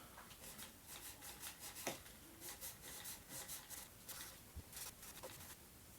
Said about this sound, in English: I'm going to go through the frets with this now, because all that sanding will leave this kind of residue.